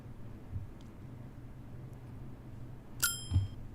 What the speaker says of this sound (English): Game bell.